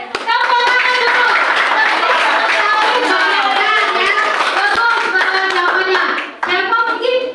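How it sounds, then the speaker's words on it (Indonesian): A classroom of students clapping hands together in a dense, steady burst lasting several seconds, with children's voices and shouting mixed throughout, close and loud. "Oke, tepuk tangan dulu."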